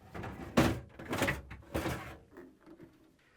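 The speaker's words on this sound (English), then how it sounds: "now I'm going to remove both crisper drawers" A plastic crisper drawer slides out of an LG/Kenmore refrigerator with a few close, muffled thumps and rubbing scrapes in quick succession, then settles into quiet.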